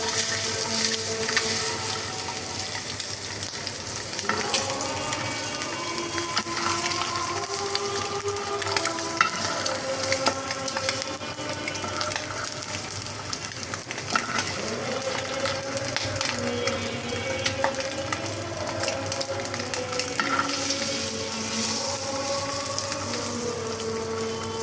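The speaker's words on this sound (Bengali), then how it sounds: "ডিমগুলো ভাজতেছি।" Boiled eggs frying in oil in a pan give a continuous close-up sizzle, with occasional stirring scrapes and faint background tones, and no speech.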